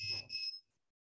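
Buzzer on an HC-SR04 ultrasonic distance sensor setup sounding when an object is at 8 cm: a close, steady electronic tone with a brief dip midway, lasting about half a second before cutting off.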